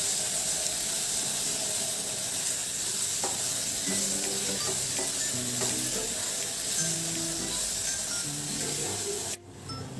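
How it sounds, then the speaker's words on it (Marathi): Cumin powder and red chilli powder sauté in a hot pan as a breakfast dish is cooked, giving a loud, steady sizzle and hiss with scattered scraping stirs, close up, before cutting off abruptly near the end. "हे मसाले देखील आपण छान परतून घेणार आहोत."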